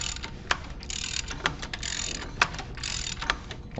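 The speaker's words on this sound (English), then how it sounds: "we're just going to turn this around 2 full crankshaft revolutions to make sure that we don't have any binding" An engine crankshaft on a 2.7 engine is turned slowly by hand after a timing chain install, giving a steady close mechanical ratcheting and clicking with a few sharper pops spaced through the turn.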